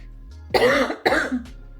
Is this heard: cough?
yes